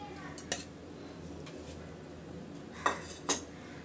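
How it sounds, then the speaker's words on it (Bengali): A metal spoon mixes orange jelly into a chilled dessert in a dish, with a few soft clinks and taps against the bowl over quiet room noise, two sharper knocks near the end. "আমি কিছুটা জেলি, অরেঞ্জ কালারের জেলি মিক্স করে দিচ্ছি"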